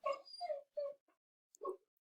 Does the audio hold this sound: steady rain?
no